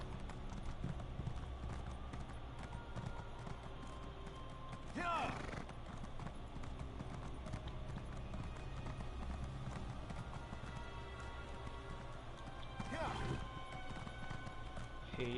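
Horse hooves clip-clop steadily at a gallop while riding in the Elder Scrolls Online game, with two brief whinnying bursts, all under a player talking.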